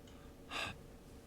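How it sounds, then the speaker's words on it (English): A single short, breathy heavy-breathing sound effect played back inside the Unity game editor, one quick airy exhale-like burst of about a quarter second over a low steady background hum. "let's go ahead and do a heavy breathing import"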